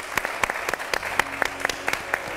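A church congregation claps in sparse, rhythmic bursts. It sounds like a small group applauding steadily at close range, with faint voices underneath.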